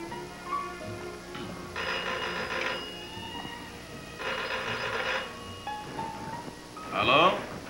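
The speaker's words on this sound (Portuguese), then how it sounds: "você mesmo telefonava para lá procurando pelo Dr. Golias." A telephone rings in a 1968 television comedy sketch: two separate bursts of bright, trilling bell ringing, each about a second long, over a low background, followed by a shorter jangle near the end.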